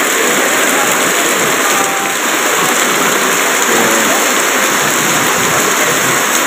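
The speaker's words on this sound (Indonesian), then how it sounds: "pangkalan pun guyur hujan guys" Steady, dense downpour of heavy rain at a base shelter in Indonesia, a continuous broadband hiss with no pauses or voices.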